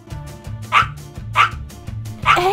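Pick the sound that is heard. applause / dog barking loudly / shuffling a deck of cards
dog barking loudly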